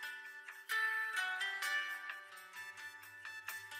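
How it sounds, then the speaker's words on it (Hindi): A phone rings with a soft melodic ringtone in a quiet indoor scene, the tune repeating faintly at low volume. "अरे फोन बज रहा है।"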